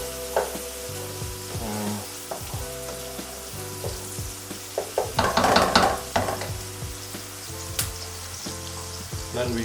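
Onion fries in a pan with a continuous close sizzle, broken by stirring scrapes and a louder burst of spattering midway, with no talking.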